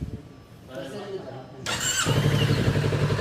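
A Kawasaki Z650 S motorcycle engine, first muffled under someone talking, then suddenly louder and close as it runs with a light throttle through the end.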